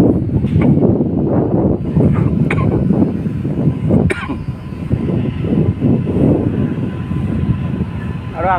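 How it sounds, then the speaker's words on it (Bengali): The Tamralipta Express pulls into Kanthi railway station with a loud, steady rumble that fills the whole stretch, along with occasional brief clanks and faint voices. "দেখুন ট্রেনটি ঢুকছে কাঁথি স্টেশনে"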